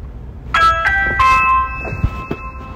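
A Ring doorbell sounds its chime, several bright bell tones ringing out clearly and close, with a couple of soft knocks or thumps after.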